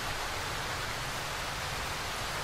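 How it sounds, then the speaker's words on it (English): Loud, steady rain in the video game Darkwood hisses as an unbroken wash of noise, dense and even for the whole stretch, with no voices over it. "Oh, the rain is just so fucking loud."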